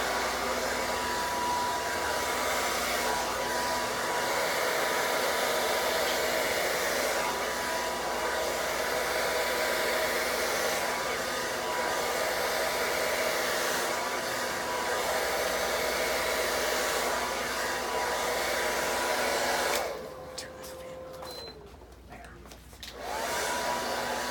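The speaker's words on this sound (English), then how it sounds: "get that hair really dry and really straight" Hair dryer blowing steadily and loudly while hair is dried straight during a keratin treatment. The whir runs continuously for about twenty seconds, then drops and shifts near the end as the airflow changes.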